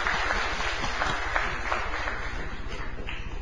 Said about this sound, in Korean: 감사의 박수 한번 올리겠습니다.